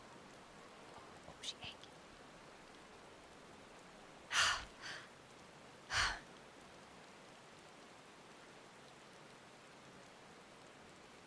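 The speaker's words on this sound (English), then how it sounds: "Amidst the sound of falling rain, your voice called from within." Rain falls in Final Fantasy XIV as a faint, steady hiss throughout, with a few soft breaths and a short spoken line breaking through midway.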